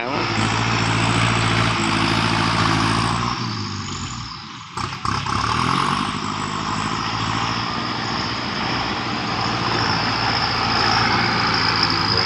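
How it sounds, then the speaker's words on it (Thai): A tractor engine roars steadily while pushing soil at a dirt-moving site where dump trucks work, with a loud continuous drone that dips briefly midway and then resumes at full strength. "แรงเลยนะครับ รถไถครับผม"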